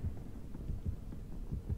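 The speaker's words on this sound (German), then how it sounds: "Ich wollte bloß gerade dieses Herzklopfen abwarten." Heartbeat from the Dead by Daylight video game: low, dull thumps in a steady repeating rhythm over a faint background hum, with no talking.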